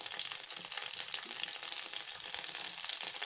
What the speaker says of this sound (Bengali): তেলটা ভালো মতন গরম হয়ে গেলে তারপরে দিয়ে দিব সবজিগুলো একে একে। দিয়ে দিচ্ছি গাজর